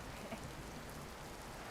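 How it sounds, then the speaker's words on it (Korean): Steady winter rain falling outdoors on a wet day, a soft continuous patter spread evenly without distinct drops, fairly faint and close, with no voices. "빗소리가 음악 소리 같죠?"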